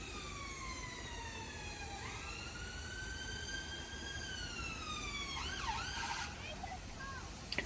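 An ambulance siren wails on a London city street, its long falling and rising tone sweeping steadily over a dense wash of traffic noise, moderately distant and continuous throughout.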